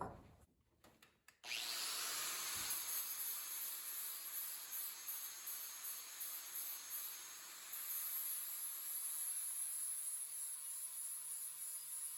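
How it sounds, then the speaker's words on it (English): A power tool sands down a bearing collar for a mini bike, starting after a few brief clicks and then holding a steady, close, hissing abrasive whine with slight dips in loudness. "We're going to sand this end down to fit inside that little thingamabobber there."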